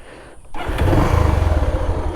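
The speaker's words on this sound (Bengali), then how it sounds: "সবার আগে হচ্ছে ইঞ্জিন সাউন্ড।" An old Bajaj Pulsar motorcycle engine starting up after a brief quiet moment, then settling into a loud, close, throbbing idle with a steady low pulse.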